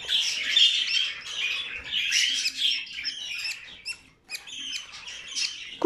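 A baby bird being hand-fed formula squawks and chirps continuously up close, shrill and insistent, with rapid begging calls and a brief pause near the end.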